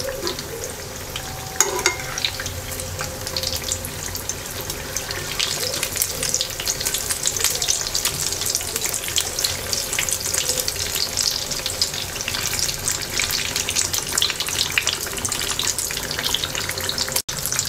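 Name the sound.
eggplant slices frying in oil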